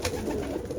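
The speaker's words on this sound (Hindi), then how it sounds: "गुलाबी नस्ल के कबूतर" Pink-breed pigeons cooing among a fancier's flock, a faint, brief, low murmur against steady background noise.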